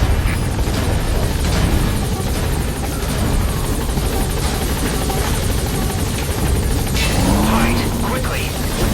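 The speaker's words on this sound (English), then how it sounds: "All right, the chopper's touching down." Helicopter in the video game Metal Gear Solid V touching down, a loud continuous rotor roar filling the scene throughout, with speech and game effects layered over it.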